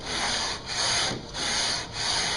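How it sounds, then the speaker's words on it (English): 120 grit sandpaper rubs back and forth along a wooden guitar neck in four long, even strokes, close and loud with no talk. "We're going to use basically 120 grit. Take off the material very quickly."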